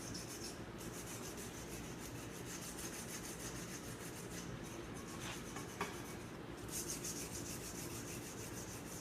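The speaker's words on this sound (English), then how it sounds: "just a little sanding." Steady scratchy rubbing of sandpaper worked by hand on wood, continuous and close, with no one speaking.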